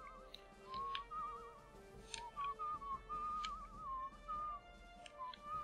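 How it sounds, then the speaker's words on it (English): A game character whistles a wandering tune while hitchhiking in Where the Water Tastes Like Wine, a steady melodic whistle carrying through the whole stretch with faint ticking beneath. "Let's do a bit of whistling."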